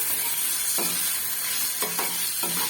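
Paneer cubes for chilli paneer fry in a hot pan, a steady hiss of sizzling oil broken by four scraping strokes of stirring, close and alone.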